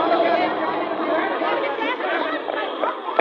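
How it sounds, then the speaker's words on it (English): A crowd of many voices chatters and shouts together at close range for a radio drama chase scene, a steady, dense murmur with no single clear voice. "The crowd seems to be chasing somebody"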